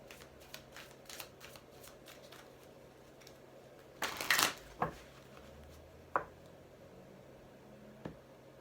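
Tarot cards shuffled close by in quick riffles and taps, with a louder burst of riffling midway and a few isolated card snaps afterward, no talking.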